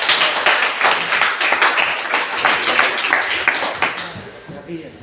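A class of students applauds in a classroom, a dense burst of close hand claps that thins and fades out near the end.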